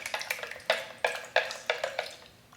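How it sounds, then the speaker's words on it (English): A utensil stirs dashi stock in a pot, making a series of light clinking scrapes and swishes in an uneven rhythm, close and fairly quiet, with no talking. "We might want to stir it."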